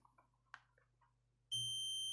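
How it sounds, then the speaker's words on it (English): A steady electronic continuity beep from a multimeter testing pins on an Atari 7800 starts abruptly and holds, loud and continuous, after a moment of quiet with faint clicks and handling noises. "in continuity mode on a multimeter, only one of these two should beep"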